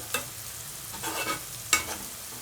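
Gongura leaves softening in a pan for a prawn curry, a quiet steady sizzle broken by a few sharp scrapes of a spoon stirring, with no one talking.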